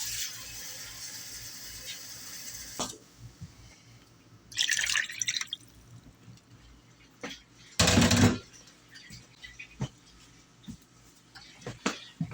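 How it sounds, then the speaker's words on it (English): Water poured into a soup pot while making tomato soup from scratch: brief splashing bursts separated by drips and quiet gaps, close by, with no talking over it. "Now I'm just going to add some more water."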